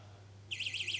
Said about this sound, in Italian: Vedete, questo è un allarme